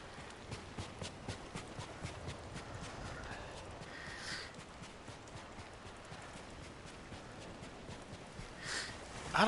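Horse hooves clip-clop in a steady, rhythmic gait while riding in the video game Ghost of Tsushima, moderately near and clear against a soft ambient background, with a brief louder rustle near the end.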